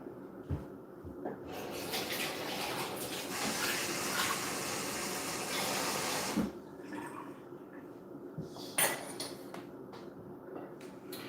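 Tap water runs into a cup in a steady, fairly faint rushing stream for about six seconds, then stops, leaving a few small clinks and handling sounds.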